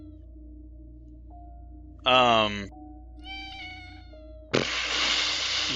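A black cat meows in a video game, two distinct drawn-out meows with a pause between them, close and clear over a low steady background hum, followed by a burst of noisy sound.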